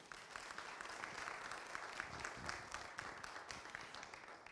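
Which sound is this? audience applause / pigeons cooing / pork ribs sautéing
audience applause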